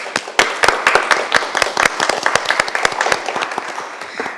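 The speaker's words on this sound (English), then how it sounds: "let's give her a little round of applause" A small crowd at a Dunedin city commission meeting gives a short round of applause, close and crisp, the individual claps clearly separated and tapering off after a few seconds.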